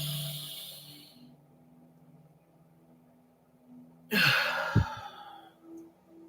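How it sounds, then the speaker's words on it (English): Slow, deep breaths through the nose during a guided breathing exercise: one long close breath fades out at the start, and after a quiet pause a second, stronger breath rushes in and out. "So let's do our breathing together."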